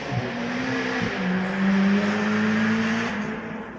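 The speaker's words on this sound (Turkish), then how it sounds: "Yani arabanın egzozunu açmışsın." A car with an opened, loud exhaust passes through a city centre street, its engine note rising and holding as it goes by at moderate distance over steady background noise.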